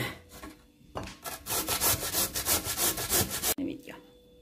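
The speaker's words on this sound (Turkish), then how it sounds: "Şu küçük ince gözünde rendelemek istiyorum dostlar." Food rubbed briskly across the fine side of a hand grater, a run of quick, evenly spaced rasping strokes that starts after a short pause and ends abruptly.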